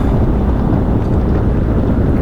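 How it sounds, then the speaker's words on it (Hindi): Strong wind roars across an open stretch of road during a motorcycle ride in Croatia, giving a constant, loud, low buffeting rumble against the microphone with no break. "इस टाइम पे जो हवा चल रही है ना राइट साइड के ऊपर, खुला एरिया आता है और हवा आती है"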